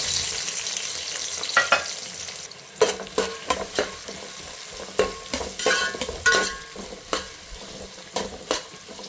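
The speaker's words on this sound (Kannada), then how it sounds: "ಇವಾಗ ಈರುಳ್ಳಿ ಒಂದೆರಡು ನಿಮಿಷ ಕೆಂಪುಗಾಗೋವರೆಗೂ ಹುರ್ಕೊಳ್ಳೋಣ" Onions fry in hot oil while a spoon stirs them, giving a constant sizzle with repeated sharp scraping strokes against the pan, close and fairly loud.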